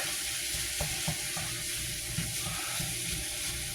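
Ground poultry fries in a hot pan with a soft, continuous sizzle, broken by a few light scrapes and stirring knocks, fairly quiet and close, with no talk.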